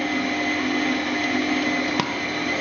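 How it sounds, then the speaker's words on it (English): An electric mixer whisks cake batter with egg for a chocolate Christmas cake, a steady close whirring drone with one brief knock near the end. "Then whisk that up"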